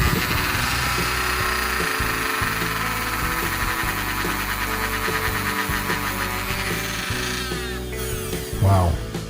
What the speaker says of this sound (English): I'm gonna put the brush after I got it turned on. I'm gonna put it on the bottom of the plate